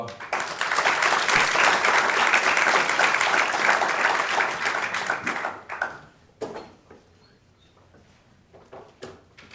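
A conference audience at a Hurricane Katrina anniversary event gives a loud round of applause for a speaker, dense clapping that fades out after several seconds, leaving quiet room noise and a few stray sounds.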